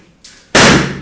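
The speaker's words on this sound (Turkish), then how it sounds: "Adam konfeti patlattı." Confetti popper bursting in the video game Gun Mayhem 2: a softer hiss rises first, then one loud, sharp, broadband pop that decays slowly with a crackling, firecracker-like tail, with no talking.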